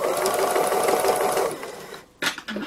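A sewing machine stitching free motion embroidery on a fabric cow runs with a steady buzzing whir for about two seconds, then stops, followed by a few small handling clicks.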